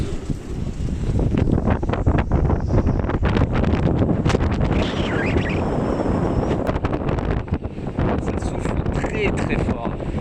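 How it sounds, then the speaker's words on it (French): Wind above 40 knots roars across a boat at sea in the Canaries, gusting loudly and buffeting the microphone while people talk over the din. "Plus de 40 nœuds de vent."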